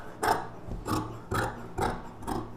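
Scissors cut through fabric for an umbrella-style top. Five soft, evenly spaced crunchy snips sound close by, each stroke brief and quiet.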